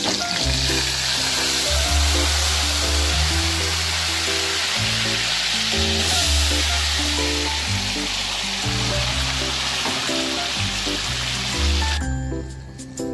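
Chicken pieces fry with cinnamon in a pan, giving a dense, loud, continuous sizzle under a steady, repeating musical backing. The sound drops away sharply near the end, and nobody speaks.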